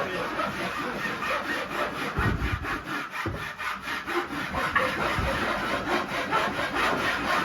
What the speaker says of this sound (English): I love the sound of just woodworking in here. They're all squaring off their bottoms.